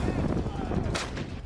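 Artillery cannon fire in the Russia–Ukraine war, heard as booming, rumbling blasts over noisy field background, with a sharp report near the end.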